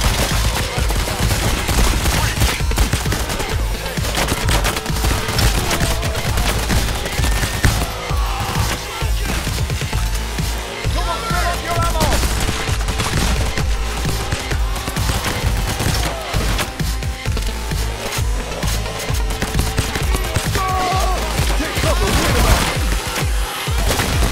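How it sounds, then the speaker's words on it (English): Sustained heavy gunfire in the heist shooter Payday The Heist rattles in loud, overlapping volleys and bursts for the whole stretch, with little pause between shots. "they just ran through like 50 shots"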